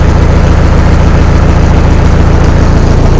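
A Mahindra Novo 655 tractor's diesel engine idles steadily and loudly up close, a smooth low rumble with an even throbbing pulse and no voices.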